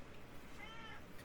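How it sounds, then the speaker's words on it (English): A pet cat meows softly once or twice, a faint, short call heard close by against a quiet room background. "Sorry, Game Ball Cat needs some attention."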